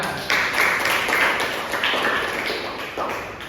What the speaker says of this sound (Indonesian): Oke, beri tepuk tangan kita semua.